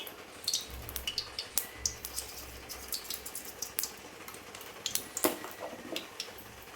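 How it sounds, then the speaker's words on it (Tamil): Mustard seeds popping and spluttering in hot oil in a pan while cooking drumstick-leaf chutney, a dense run of sharp crackles and small pops with a few louder snaps, close by and with no talk. "கடுகு நல்லா பொரியுது"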